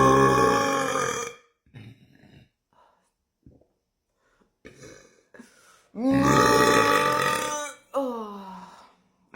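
A woman lets out long, loud, deep burps in imitation of a cow, with a couple of strong voiced bursts separated by quieter breathy sounds and pauses.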